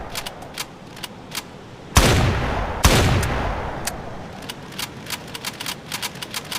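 Video game gunfire: two loud, booming shots with long rumbling tails, surrounded by a steady patter of sharp, quick clicks and taps, all close and without any talking.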